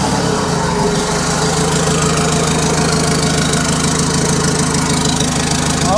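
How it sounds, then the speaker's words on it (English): A turbocharged 1998 Chevy Tracker engine idles steadily up close, a loud, even, rumbling run with a fast mechanical clatter and no change in pace. "we'll fire it up and wrap her off a few times"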